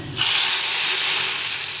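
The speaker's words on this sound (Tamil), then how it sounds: "பொரிஞ்சிருச்சு, நம்ம இதில் ஊற்றிடலாம்." Hot tempering oil is poured into curry with a sudden loud sizzle that settles into a steady, bright hiss, close by.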